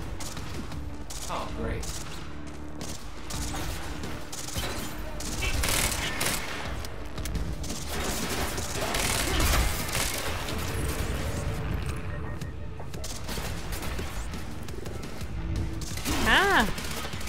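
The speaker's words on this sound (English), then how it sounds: "Who's shooting me?" Sustained gunfire from the Quantum Break video game, dense continuous shooting and bursts with booms layered together, loud and steady throughout, with someone talking over it.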